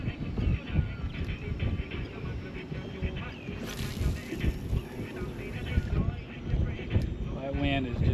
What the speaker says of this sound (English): That wind is just getting worse and worse.